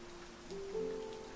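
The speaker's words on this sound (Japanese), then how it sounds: "雨が降る。" Steady rain falling, a soft even patter heard alone, with a faint tonal hum rising partway through.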